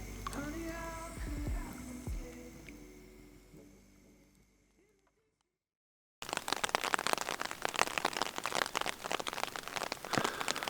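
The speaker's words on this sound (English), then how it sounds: "So I've woken up to some rain this morning." After a brief silence, steady rain patters densely and loudly, a continuous close drumming of drops; earlier, muffled tones and clatter fade out.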